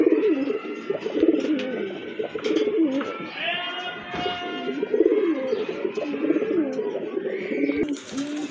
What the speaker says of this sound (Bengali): এই যে দেখেন আরেক জোড়া কবুতর